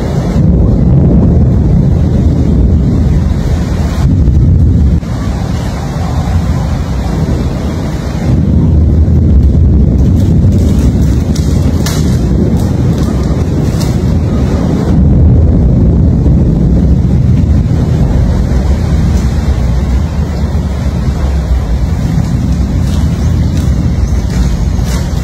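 Strong wind gusts buffet the microphone outdoors during stormy weather, a loud, continuous rumbling roar that swells and eases in waves over about twenty-five seconds, with no talking.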